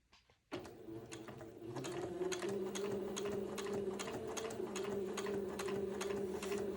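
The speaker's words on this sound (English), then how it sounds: "this is going to take me a minute to get all 3 pieces of Entredo sewn on with a straight stitch" A sewing machine runs a steady straight stitch, attaching strips of entredeux to a white button-on boy's suit. A few soft clicks come first, then continuous close mechanical whirring with rapid rhythmic ticking through to the end.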